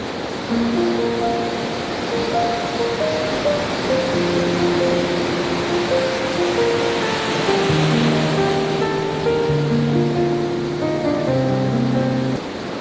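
Sea waves wash onto Shivrajpur Beach near Dwarka, making a loud, continuous rushing hiss. A melodic music track plays over the surf throughout.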